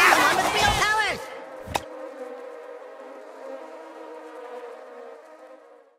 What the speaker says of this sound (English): the buzzing is finally dying down